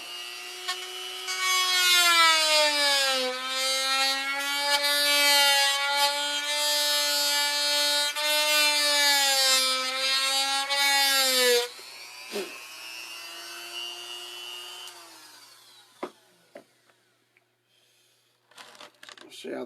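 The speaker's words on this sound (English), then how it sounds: "I apologize for the noise on the Dremel." A Dremel rotary tool whines loudly and steadily for about twelve seconds, its pitch dipping slightly under load, then cuts off; a brief second burst follows and faint clicks and handling sounds trail after.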